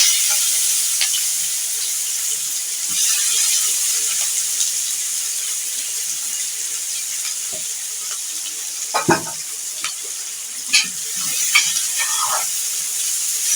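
Sliced onions crackle in hot oil in a pan, a steady close sizzle and hiss punctuated by a few sharper clinks and stirring scrapes toward the end.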